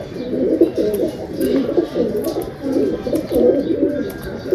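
Pigeons coo steadily and close by, low throaty rolling calls repeating in overlapping phrases, with faint chirps higher up.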